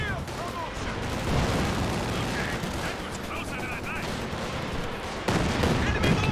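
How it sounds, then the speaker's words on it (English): Katyusha rocket barrage in the Company of Heroes 2 battle game: dense, continuous rumbling volleys of launches and impacts with crackling gunfire throughout, swelling louder near the end. "Katyusha again out the back."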